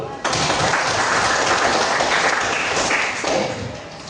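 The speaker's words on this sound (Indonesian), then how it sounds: "Bisa, tepuk tangan dulu." Classroom audience at a school informatics lesson breaks into dense, steady applause that starts abruptly, stays loud for about three seconds, then thins a little before continuing.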